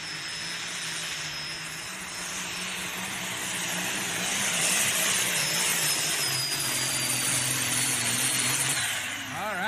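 A tractor engine roars steadily at a tractor pull competition, a loud sustained drone that swells slightly toward the middle and stays dense and continuous throughout, with no voices.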